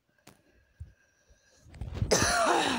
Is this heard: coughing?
yes